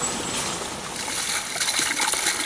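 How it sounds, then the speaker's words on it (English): Steady flowing water rushes continuously in an outdoor setting, a broad even wash of sound with faint splashy flickers, no voices present. "by the sound in the background, if you can hear it, this one is going to be about water"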